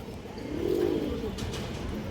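A single male Muslim-tail pigeon coos on its own, giving a soft, low, rolling call that swells in the middle and then fades against a quiet background.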